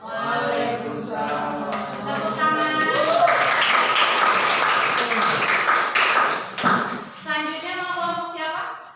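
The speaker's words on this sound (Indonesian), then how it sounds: "Tepuk tangan." Audience applause breaks out at the close of a meeting, a few seconds of dense clapping that fades back into talking voices before and after.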